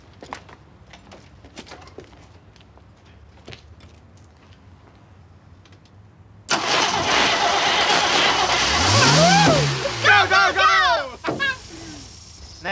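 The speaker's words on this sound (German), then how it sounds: "Naja, die Karre läuft." An Opel Manta's engine is cranked and fires up after a few faint clicks and taps, then runs loudly with rising and falling revs nearby, its roar carrying on to the end.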